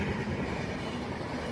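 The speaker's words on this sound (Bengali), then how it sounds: "ট্রেন যাচ্ছে" A train passing nearby, a steady low rumble of wheels and railcars on track with a faint rhythmic clatter, continuous and fairly loud with no voices.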